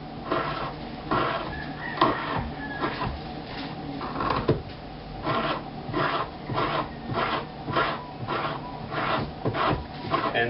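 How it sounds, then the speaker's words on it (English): Coconut scraped against a sharp-edged grater in Samoa, a loud close rasping in steady rhythmic strokes, roughly one every second, with no talk over it. "Take coconut, take the grater, some sharp edges,"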